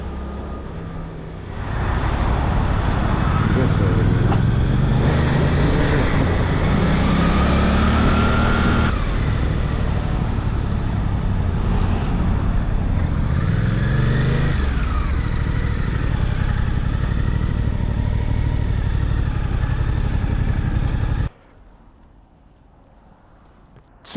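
A Suzuki GSX 8R motorcycle accelerates on the road, its engine note climbing in pitch through repeated surges over steady wind and road roar, ending abruptly into near quiet.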